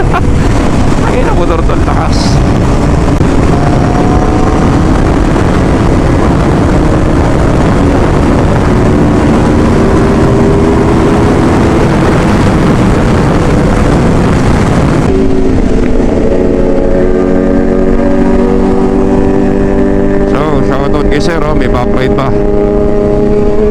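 An Aprilia RSV4 1100 Factory V4 motorcycle roars on the road, its engine note rising and falling under heavy, constant wind rush for the whole stretch.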